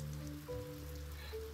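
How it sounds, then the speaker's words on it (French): Rain patters steadily in the video game Stonehearth, a soft continuous hiss of falling drops under faint sustained musical tones, quiet and brief. "Il pleut beaucoup dans le coin"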